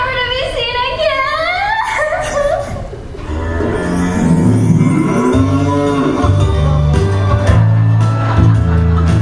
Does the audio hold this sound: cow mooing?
yes